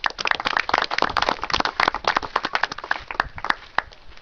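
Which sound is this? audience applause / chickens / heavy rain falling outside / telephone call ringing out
audience applause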